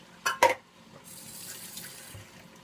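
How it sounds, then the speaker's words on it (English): Broth poured into a tomato can to rinse it out, for lentil soup: two short splashy bursts at the start, then a steady soft running-liquid wash that continues quietly to the end, with no talk. "This is my way of rinsing the can out and getting all those extra good tomato bits from it."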